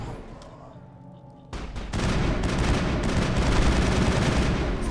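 Gunfire in the video game Mass Effect, with a pistol taken up against zombies: a quieter stretch, then from about two seconds a loud, dense run of rapid shots that goes on to the end.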